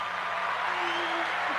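Live studio audience applause and cheering, a short steady wash of clapping at moderate distance, fairly faint, with a voice briefly over it.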